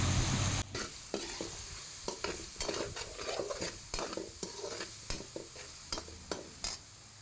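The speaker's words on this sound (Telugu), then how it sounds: "ఇప్పుడు టమాటాలు వేస్తున్నాము" Chopped tomatoes fry in a pan for palak chicken curry, giving a soft steady sizzle punctuated by repeated scraping and clinking strokes of a stirring spoon, close and without talk.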